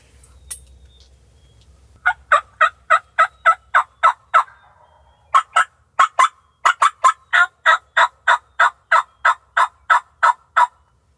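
A wild turkey gobbles in rapid, evenly spaced clucking bursts during a Wisconsin spring hunt, clear and moderately close in a quiet field, with several runs of calls separated by short pauses.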